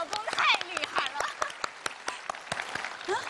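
A theatre audience at a televised comedy sketch breaks into applause, with quick patters of clapping mixed with voices and stage chatter over it.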